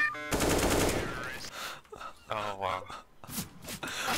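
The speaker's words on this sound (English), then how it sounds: "I'm being shot!" Rapid gunfire in Counter-Strike's Danger Zone mode strikes the player: a dense, loud burst of shots early on, then quieter bursts mixed with voices talking.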